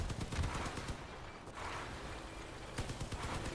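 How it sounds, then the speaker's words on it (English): Light machine gun fire in the vehicle combat game Crossout, with rapid bursts of shots that rise and fall over a steady background din of mechanical game noise, moderately faint, no talking. "I need to get my gun turned sideways so I can use my light machine gun here"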